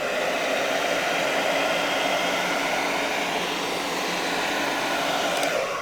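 A heat gun post-heats vinyl wrap on a car, a close, loud, unbroken fan-driven roar of hot air that holds steady for the whole stretch.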